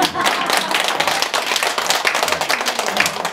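An audience claps steadily for a few seconds, a dense, close round of applause with no talking.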